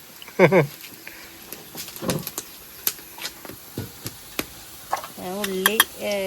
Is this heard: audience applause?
no